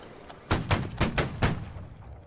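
Broadside of ship cannons in Holdfast Nations at War, five or six heavy booming shots fired in quick irregular succession, close and loud, trailing off into rumble.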